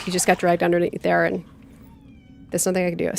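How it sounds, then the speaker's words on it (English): A pet cat meows indoors during a live gaming stream, a short plaintive cry between stretches of close conversational speech. "Sorry about my cat."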